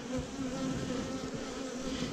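Honeybees buzzing steadily at an open hive during brood frame inspection, a dense continuous drone close by with no pauses.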